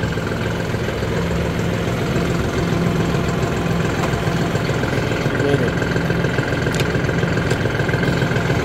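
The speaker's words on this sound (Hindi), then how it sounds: "तो भाई अब छोटी सी एक टेस्ट ड्राइव लेके देखेंगे ट्रैक्टर की कैसी रोड स्पीड है, कैसा पिकअप।" A John Deere 5075 E tractor with a CRDI diesel engine runs steadily at idle, a close, continuous low throbbing hum with faint knocking texture and no talk.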